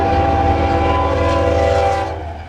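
A train horn blares loud and close as a train rolls past a level crossing, steady sustained tones over rumbling wheels, then fading slightly at the end.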